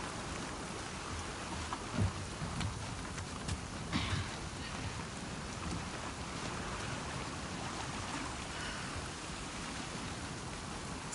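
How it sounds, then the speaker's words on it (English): Steady rain pours down in The Last of Us Part II, a dense, even hiss with a few louder spatters and thumps, with faint voices in the background. "Let's get out of the rain."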